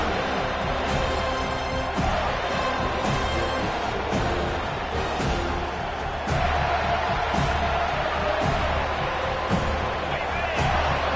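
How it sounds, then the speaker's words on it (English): Roaring stadium crowd noise in a PS5 football video game, a steady dense wall of cheering at the two-minute warning before halftime, with commentary talk running over it throughout. "The roar of the crowd trying to fuel this defense to keep them pinned in their own end"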